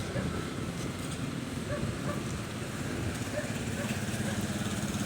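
Wind blowing steadily outdoors, a continuous rushing roar with low rumbling buffeting close to the microphone, no clear voices.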